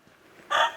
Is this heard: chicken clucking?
yes